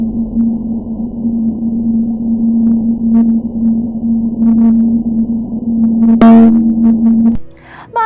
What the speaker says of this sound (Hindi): इसीलिए हमें वीनस की आवाज में लाइटनिंग की आवाज भी सुनने को मिलती है